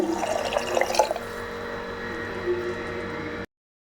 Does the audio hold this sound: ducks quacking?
no